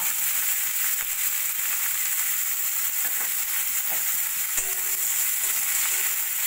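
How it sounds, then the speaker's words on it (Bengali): Thinly sliced medium onions fry in hot oil with nigella seeds in a pan, giving a steady, close, even sizzle throughout, with a few faint clicks of stirring. "পেঁয়াজটা একটু ভাজা ভাজা করে নেব"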